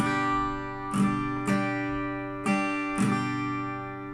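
An acoustic guitar chord rings steadily, and four strums land in a down, down, up, down pattern, each a crisp accent over the sustained strings, played close and alone.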